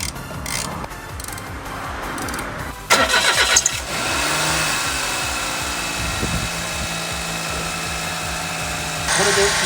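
A Suzuki K6A three-cylinder engine, fitted with a freshly reinstalled air-conditioning compressor, cranks over with a brief clattering burst and then settles into a steady, close idle with a continuous whir.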